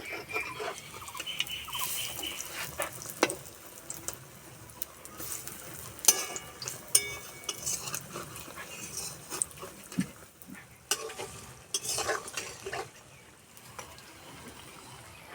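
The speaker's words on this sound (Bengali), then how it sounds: "উল্টে পাল্টে লাল লাল করে ভেজে নেব" Banana-flower fritters sizzle and crackle continuously in oil, with scattered sharper pops and scraping clicks throughout.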